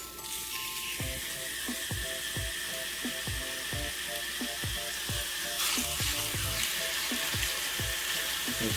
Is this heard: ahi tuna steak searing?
yes